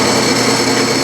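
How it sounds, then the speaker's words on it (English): Metal lathe turning a brass workpiece held in a 3-jaw chuck, producing a loud, steady, dense machine whir that continues without pause through the brief moment. "I have the brass chucked up in a closing lathe 3-jaw chuck"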